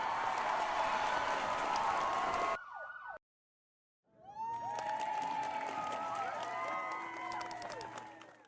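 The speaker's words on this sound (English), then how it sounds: "It sounds like cheering." Crowd cheering in a video game, a dense roar of voices that drops out briefly into silence, then returns with whooping, siren-like rising and falling tones layered over a steady hum.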